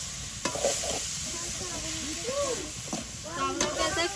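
Potatoes being added to small river fish frying in a pan with maira greens, village home cooking; steady sizzle with stirring scrapes and clinks, plus a few faint background voices.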